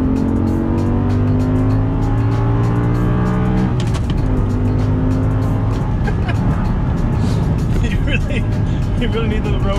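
A supercar accelerates hard on a highway. Its loud engine climbs through rising revs, drops briefly at a gear change and climbs again, with voices talking over the roar.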